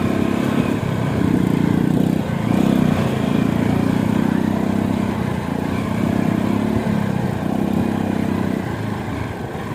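A Tiger motorcycle climbing a steep uphill road, its engine droning steadily and loud throughout with a low rumbling throb close by, with no talking.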